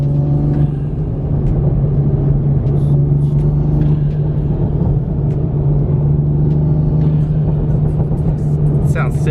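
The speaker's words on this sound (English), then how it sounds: "Here's a little clip of the intake," A modified intake on a Toyota Supra after an intake mod, with a steady engine drone and faint fluttering under voices talking throughout, loud and close.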